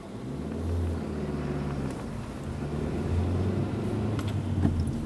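A learner car on a driving lesson gives a steady low engine rumble and road noise from inside the cabin, continuous and moderately loud with no talk.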